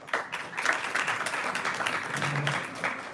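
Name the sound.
audience applause after a lecture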